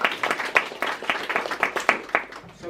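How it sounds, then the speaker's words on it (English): Small audience at a Nordic poetry festival reading in York applauding a performer, a thin, uneven patter of scattered handclaps with distinct individual claps, fading toward the end. "Please, a round of applause for Adam."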